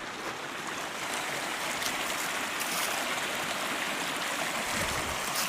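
A creek flows steadily through dry brush with tumbleweeds and white sage, making a continuous broadband rush of water that stays even and fairly close, with no voices over it.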